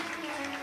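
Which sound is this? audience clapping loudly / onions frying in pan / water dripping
audience clapping loudly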